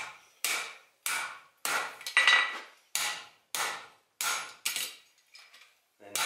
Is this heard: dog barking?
no